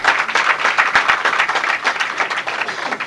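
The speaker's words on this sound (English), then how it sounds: "Let us once again give him a very big round of applause to welcome him." An audience applauding to welcome a speaker at IIT Bombay, dense continuous clapping from a large crowd, close and loud throughout, with no talk over it.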